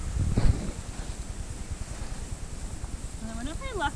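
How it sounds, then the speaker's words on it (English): Wind gusting across a campsite, a steady rushing roar with low buffeting on the microphone throughout, while a voice briefly speaks at the end. "Why don't we always get the wind and the bad weather?"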